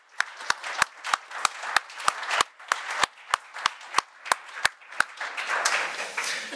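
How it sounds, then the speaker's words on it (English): Audience clapping at a symposium: sharp, evenly spaced claps ring out in a steady rhythm, then thicken into a fuller, softer round of applause toward the end. "let us congratulate you with a round of applause"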